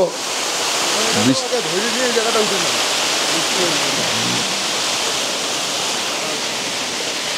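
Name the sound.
heavy water spray from waterfall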